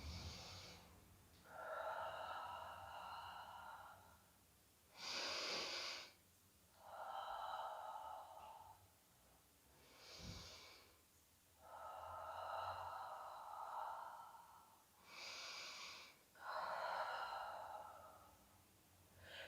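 Slow, steady breathing during a Pilates semi-roll-up, with long airy inhales and exhales alternating in a regular rhythm, close and fairly soft, with no talking.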